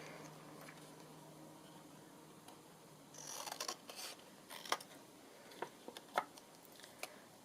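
Scissors cut down a paper picture for a collage, with a series of sharp snips and rustles starting a few seconds in, close and quiet, with no talk.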